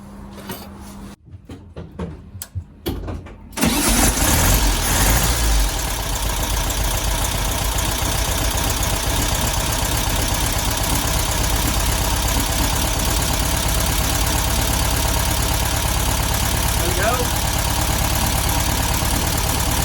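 A few clicks and cranking, then a Volkswagen Beetle engine, after valve timing work, catches and settles into a loud, steady, slightly uneven idle that runs without stopping.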